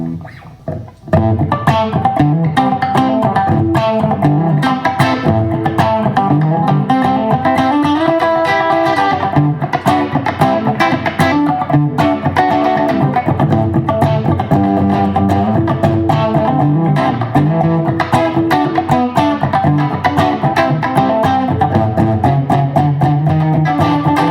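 Distorted electric guitar plays a steady, driving blues rhythm through a Mesa amplifier, loud and continuous with a dense, crunchy tone and no talking.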